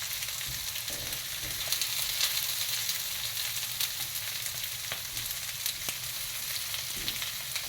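Potatoes browning in a hot frying pan give a steady, close crackling sizzle with faint scraping as they are moved around, no voices.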